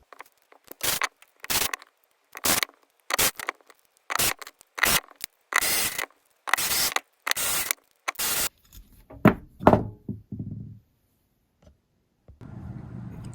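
Screws being driven one after another into a plastic RC beadlock wheel ring, a steady run of short, sharp buzzing bursts with brief pauses, close and loud, followed by a few softer handling noises and a faint rustle at the end.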